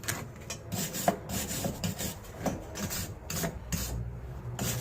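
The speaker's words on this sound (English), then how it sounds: "wire brush." A wire brush scrubs surface rust off a powder-coated steel coilover, giving a steady close-up rasping scratch in quick irregular back-and-forth strokes.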